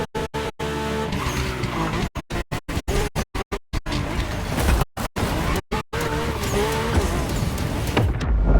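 A Mercedes-AMG One races in The Crew Motorfest, its engine revving high and shifting through gears while the tires squeal and scrape. The sound is loud and close and is chopped by several brief silent cuts.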